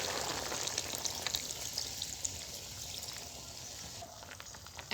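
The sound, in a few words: pouring fish broth into frying vegetable curry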